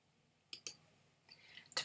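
Several sharp computer mouse clicks while someone works through site-sharing settings: a close pair of clicks, a softer one, then a final click, all faint against quiet room tone.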